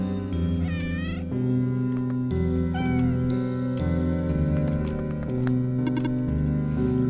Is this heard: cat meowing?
yes